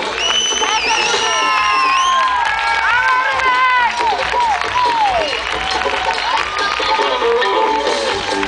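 A concert crowd applauds and cheers for the guitarist in a show, dense clapping with whoops and shouted voices, loud and continuous, while a few sung or shouted tones rise above.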